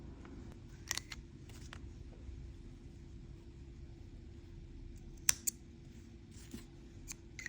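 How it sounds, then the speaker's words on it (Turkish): Scissors snip through crochet yarn after a round crochet motif is joined, giving a couple of brief, quiet clicks near 1 and 5 seconds over a low background hum, with no talking. "Şimdi artık şöyle ipimi uzatıp kesebilirim."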